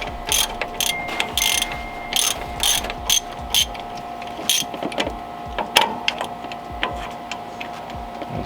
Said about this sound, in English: Come in here with our ratchet and finish this off.